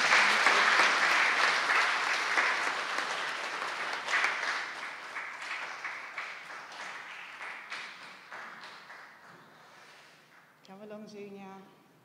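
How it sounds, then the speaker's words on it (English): A church congregation at a Sunday service gives sustained, loud applause that slowly thins out, before a voice speaks near the end. "Give him a round of applause."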